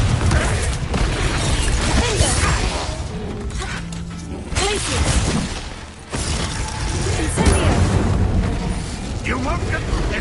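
Confringo curse explosions burst in a Hogwarts Legacy battle as loud, continuous blasts and crackling impacts, layered with combat noise and occasional voices, almost without pause.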